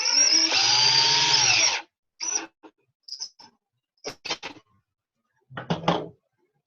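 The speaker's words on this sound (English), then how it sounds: "My drill is moving to the right, clockwise." Power drill spinning clockwise while working on coil construction, a loud whirring burst of nearly two seconds that winds down, followed by short clicks and brief trigger bursts, close with no talking.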